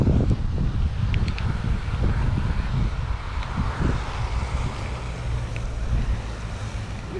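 Wind blowing over open water while fishing from a boat, a continuous rushing roar with buffeting against the microphone and lapping water underneath, steady throughout.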